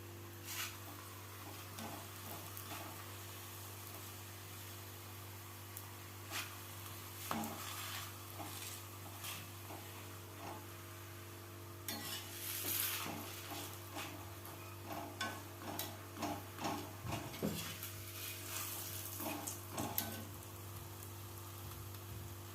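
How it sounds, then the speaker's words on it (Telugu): Radish paratha frying on a pan over medium heat, a soft steady sizzle with faint scraping and tapping from a spatula, continuous throughout with a low hum underneath. "ఈ విధంగా చూసుకొని మీడియం హీట్లో మనం ఫ్రై చేసేసుకుందాం"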